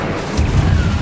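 A single Incendio fire spell blast in Hogwarts Legacy, a short, close, heavy boom that swells suddenly from a rumbling background and holds as a low roar for a fraction of a second.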